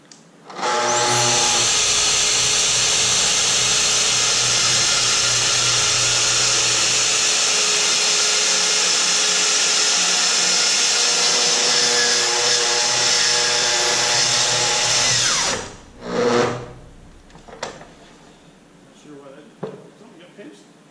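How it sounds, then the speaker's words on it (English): A wood planer roars steadily as a cedar slab feeds through it, a loud continuous machine whine lasting about fifteen seconds before cutting out abruptly, followed by a few scattered knocks and handling sounds. "we're going to run it through the planer until it gets nice and flat on both sides."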